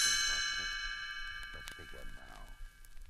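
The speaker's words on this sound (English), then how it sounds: "You will know it is time to turn the page when you hear the chimes ring like this." Chimes ring out as a page-turn cue, a bright metallic ding that sustains and slowly fades, with soft speech and small sounds beneath.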